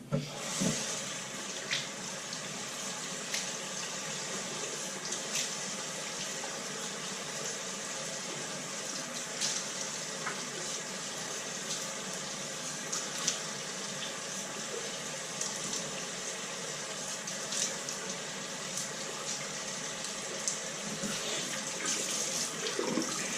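Tap water runs steadily into a sink as a face is wetted before a wet shave, a constant close hiss of flowing water with small splashes and clinks scattered across it.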